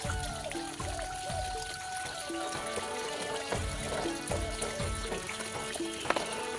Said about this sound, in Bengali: তাই বিছানাটা গুছিয়ে চলে আসলাম কলপাড়ে, কয়েকটা বাবার জামা কাপড় ধুয়ে দেব।